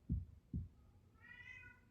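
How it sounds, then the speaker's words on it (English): Two dull low thumps, followed by a short, faint, high-pitched cat meow drawn out near the end. "ignore the meowing"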